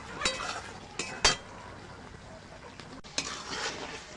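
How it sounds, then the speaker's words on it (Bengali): Garam masala paste being stirred into a pointed gourd and prawn curry: a spoon scrapes and clinks against the pan in a few distinct strokes, with a soft sizzle running beneath, close and moderately loud. "আমি গরম মশলাটা দিয়ে একটু নাড়াচাড়া করে নিয়েছি"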